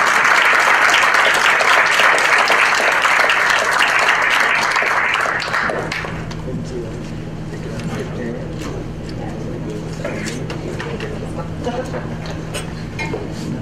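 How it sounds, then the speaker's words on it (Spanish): Loud, dense applause from an audience at a talk on fiscal transparency and secrecy lasts about six seconds, then drops to scattered claps, light clinks and murmuring voices in the room. "¿qué les parece si le damos un aplauso y ahorita seguimos con las preguntas?"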